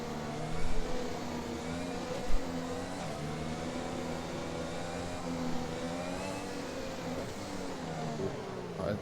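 In a racing game at Spa-Francorchamps, race cars accelerate at a safety car restart. There is a steady, moderately faint engine drone with rising revs and a few small thumps, and brief talk can be heard underneath.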